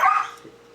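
A puppy gives a single short bark, close and fairly loud, fading quickly into quiet background with no talk, amid a fan convention crowd setting.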